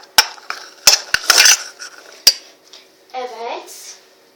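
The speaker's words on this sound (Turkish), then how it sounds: "Biraz daha kasede karıştıracağım." Purple slime being mixed in a bowl: several sharp clinks and scrapes of a utensil against the bowl, then a brief squelching, stretchy sound near the end, close and clear.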